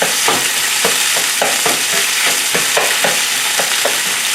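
Beef frying in hot oil for a bell pepper steak stir-fry, with broadband sizzling broken by regular scraping stirs roughly every half second, loud and close with no talking.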